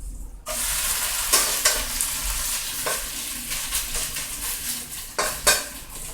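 Potato hashbrowns sizzle steadily in a frying pan, with a few sharp scraping and clattering bursts as a utensil works under them and they are flipped.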